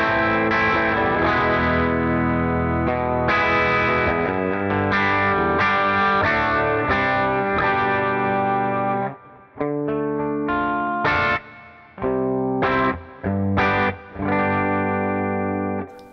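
Hartwood Fifty6 electric guitar with Bigsby in humbucker mode playing clean tones, strummed chords and picked notes with some effect coloring, steady for most of the passage then broken into short phrases separated by pauses, close and alone.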